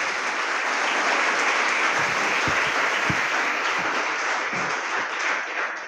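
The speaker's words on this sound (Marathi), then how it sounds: "तरी सर्वांनी त्यांचे टाळ्या वाजवून स्वागत करावे" Sustained applause from an audience greeting Police Commissioner M. Rajkumar at a Solapur city police cyber crime awareness workshop, dense and steady clapping filling the whole stretch without talk.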